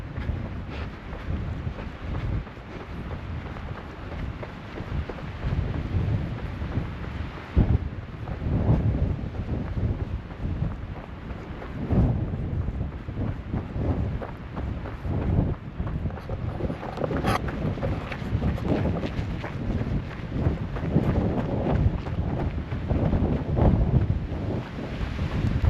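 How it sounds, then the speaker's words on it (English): Strong wind roars and gusts against the microphone while climbing O'Leary Peak in northern Arizona, a continuous low rushing that swells slightly louder toward the end, no talk. "Wind is really starting to pick up as I climb here."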